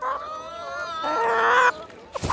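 Dual-purpose breed chickens cluck and warble in a close, steady run of calls for about two seconds, followed by a couple of sharper squawks.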